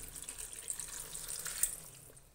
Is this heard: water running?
yes